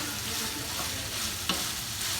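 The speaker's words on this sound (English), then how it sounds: "I'm frying to my liking with the onions and everything you see in here." Minced meat and onions fry in a pan for a pirog filling, giving a steady broadband sizzle with stirring scrapes and a sharp clink near the middle, with no voices.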